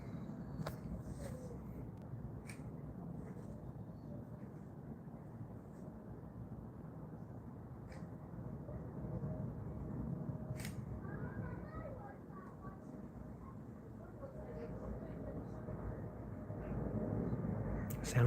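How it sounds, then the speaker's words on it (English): A large airliner passing over London, a low broad rumbling roar that swells slowly and steadily, heard at a distance with faint background activity. "Sounds like a bigger plane to me."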